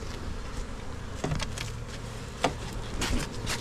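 A low, steady buzzing of many honeybees at new nucleus hives hums throughout, with occasional louder passes as individual insects fly close.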